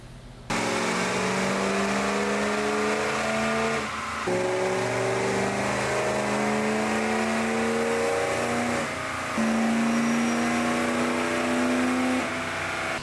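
A Ford 6.0 Power Stroke diesel pickup engine roars at high revs under load on a dyno, pitch climbing steadily through several long pulls with brief drops between them.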